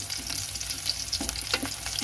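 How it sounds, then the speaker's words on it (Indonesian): Garlic and ginger sautéing in a pan, browning lightly: a close, steady frying sizzle with a few quick stirring scrapes over two seconds, no voices. "Ini kita tumisnya sampai bawang putihnya agak kecoklatan ya, tapi enggak gosong"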